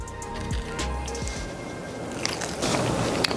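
Someone bites into a baked spinach, mushroom and gruyere pinwheel appetizer, making a close soft crunch followed by moist chewing, with no talk.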